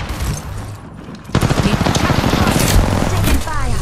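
Rapid video-game gunfire bursts out in a battle-royale match, loud and close, running as sustained automatic volleys after a brief lull, with faint game voice lines underneath.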